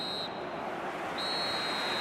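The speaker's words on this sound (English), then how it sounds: "The final whistle and confirmation we are headed for penalties." A referee's final whistle in the football video game eFootball 2026: two piercing, steady whistle tones, a short one and then a longer sustained blast, rising above a constant roar of the stadium crowd.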